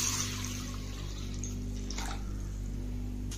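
Soaked moong dal being rinsed in water, a steady low wash of running or swirling water with a couple of brief splashes, fairly close and continuous with no talking.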